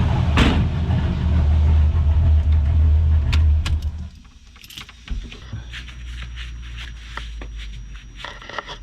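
A BMW E36 with an LS swap V8 is shut off: a deep, loud idle rumble for about four seconds, then the engine cuts and quiet ambient noise with faint clicks and ticks follows.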